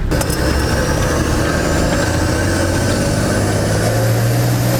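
A turbocharged Nissan TD42 diesel 4x4 drives along, its engine droning loud and steady from start to finish with a rising tone as it pulls, and no one speaks.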